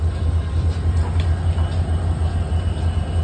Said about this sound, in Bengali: সকাল সকাল সাঁতরাগাছি স্টেশনের দৃশ্যটা কিছুটা এরকম।